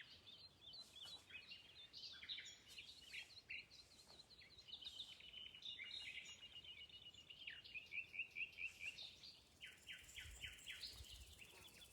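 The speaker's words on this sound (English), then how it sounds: "Isn't it lovely, all the bird song?" Outdoor birdsong fills the air in a vineyard, many small birds chirping and trilling at a distance over a quiet background.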